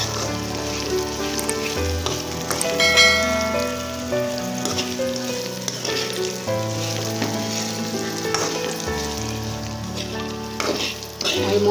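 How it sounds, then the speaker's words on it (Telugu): Bitter gourd pieces fry steadily in a pan with a continuous soft sizzle, stirred now and then to keep them from burning, while tonal music plays throughout. "బాగా వేయించుకోవాలి మాడకుండా మధ్య మధ్యలో ఇలా తిప్పుకుంటా ఉండాలి"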